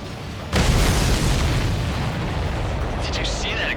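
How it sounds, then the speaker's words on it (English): A supply ship shot down in Ace Combat 7 bursts in a sudden loud boom that settles into a sustained rumbling roar, with a faint voice-like sound near the end. "Did you see that explosion? Looks like that's one of them down."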